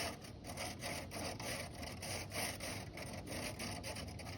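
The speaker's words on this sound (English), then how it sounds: "kind of scrubbing my way down the line here" A brush scrubs soot inside a chimney flue, a faint rhythmic back-and-forth scraping with regular strokes heard at a distance, with no talk.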